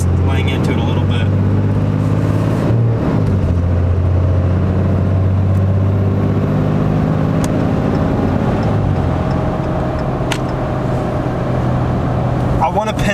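A 2018 pickup with a 6.7 Cummins diesel engine accelerating moderately, a loud deep engine drone that builds and shifts pitch, with a person talking over the engine.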